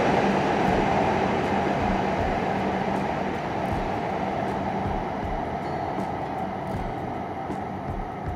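A Shinkansen Hayabusa bullet train at a station gives off a steady broadband rushing rumble with a faint tonal hum, fairly close and even in level, with no voices.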